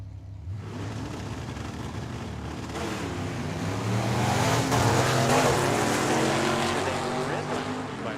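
At Tucson Dragway, a Chevy Nova and a Ford Fairmont race side by side as loud engines roar and build in a broad, swelling rumble. An announcer talks over the noise.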